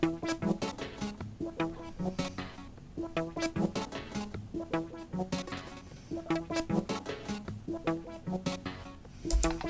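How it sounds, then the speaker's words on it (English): A synth melody run through Shaperbox with added noise and drive, then Digitalis pitch echo, for a beat: a steady, rhythmic pattern of bright, gritty, stuttering notes that repeats throughout at an even loudness, with no voices. "So this is what it sounds like."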